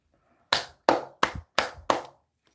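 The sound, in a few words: one person clapping hands as a standing ovation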